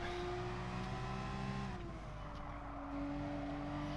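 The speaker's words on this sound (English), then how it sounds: "See if we can keep fourth gear here on the straight without hitting the rev limiter." Porsche 911 RSR race car at Suzuka in the Gran Turismo Sport video game, its engine holding a steady high-pitched drone that dips briefly as the gear shifts, then drones on alone at high revs.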